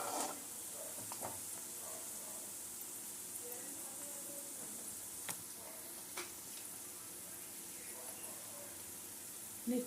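A pan fries quietly with turmeric being mixed in, giving a faint, steady sizzle. Soft scraping strokes of stirring come through now and then, close by but low in level.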